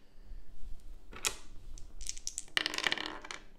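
Two dice roll in a tabletop game, clattering and rattling in bursts of small hard clicks and taps, quiet and close, with a brief pause between the tumbling sounds.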